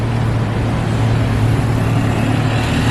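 A city bus in Japan edges through a very tight turn: a loud, steady engine drone and low rumble close by, unbroken and with no talk.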